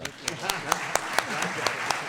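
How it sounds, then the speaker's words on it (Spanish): An audience at a book presentation at Casa del Tíbet claps in a brisk, even rhythm. The short burst of clapping sits among voices speaking. "un aplauso fuerte para los dos."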